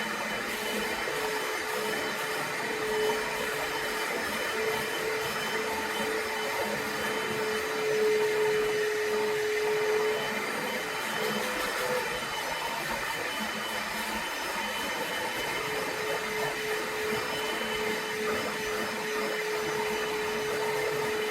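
Bissell Little Green portable spot cleaner with its pet stain tool attached, running on a carpet stain: a steady, loud motor whine with a high pitched tone, holding constant with no voices.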